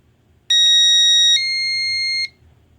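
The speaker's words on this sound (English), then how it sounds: "That's my doorbell." Electronic doorbell tone from a microcontroller board with a booster pack, a loud steady two-pitch beep: one high tone for about a second, then a slightly lower tone held for another second before cutting off.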